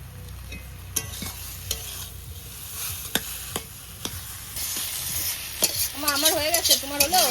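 Taro leaves cook down in a pan, giving a steady sizzle broken by sharp clinks of a spoon stirring against the metal, close and continuous.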